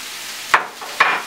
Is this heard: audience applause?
no